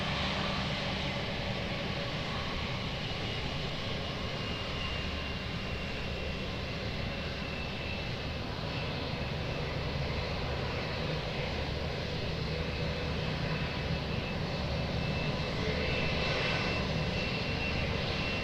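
An airplane at Lisbon Airport on runway 20 produces a continuous broad engine roar, steady and fairly distant, lasting throughout with no voices.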